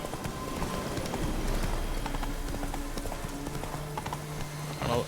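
Geralt's horse Roach gallops in The Witcher 3, a brisk steady clip-clop of hooves close by that runs throughout under a low game rumble.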